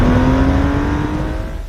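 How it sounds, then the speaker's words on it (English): A classic sports car engine revs loud and close in one sustained, steady burst with a strong low rumble and a clear tonal whine, heard alone. "they don't make cars that sound like this anymore."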